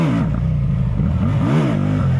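A Hyosung GV350X motorcycle accelerates hard in first gear, its engine note rising in a close, loud rev that dips briefly and then climbs again, with no talking.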